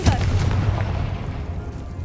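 A Confringo fire blast spell in Hogwarts Legacy bursts with a loud boom at the start, then a rumbling roar fades away.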